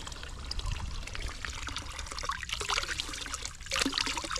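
Well water pouring and trickling steadily, with splashing that surges near the end, heard up close and alone with no talk.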